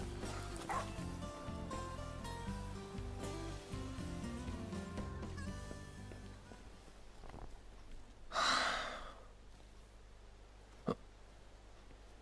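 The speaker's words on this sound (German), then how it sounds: "Wir folgen jetzt einfach mal dem Hund." A dog barks, yips and whimpers in Final Fantasy XV over game music, with a louder burst of breathy sound partway through and a sharp short hit near the end.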